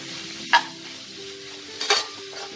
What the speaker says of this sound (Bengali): দিয়ে এটাকে আমি ভালো করে তেলে কয়েক সেকেন্ড আমি এটাকে নাড়াচাড়া করব